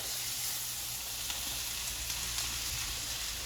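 Carrots tossed into a pan of browned onions for boeuf bourguignon set off a steady, even sizzle of frying, loud and close, with faint stirring scrapes and no voices.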